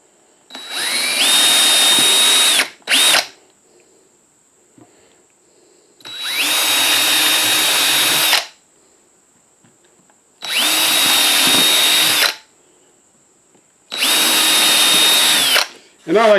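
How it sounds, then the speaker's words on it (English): Power drill boring holes into a 3/4 inch plywood bookcase shelf, four loud whirring bursts of about two seconds each with short quiet pauses between them, near and prominent. "drill your holes by eye"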